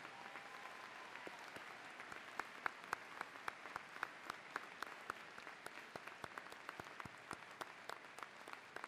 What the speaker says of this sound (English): Please join me in a round of applause for our recipients of Emeritus.